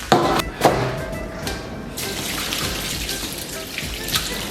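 Tap water running and splashing over a whole pig's head being rinsed in a kitchen, a steady close gush with a few sharp knocks and splashes near the start.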